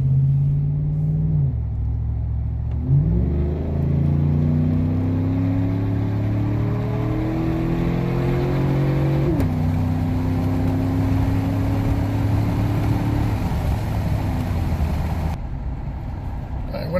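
A Chevrolet Silverado fitted with an aFe intake accelerates at full throttle, its engine roaring loudly and climbing in pitch through several gear shifts, each change marked by a brief dip before the drone rises again.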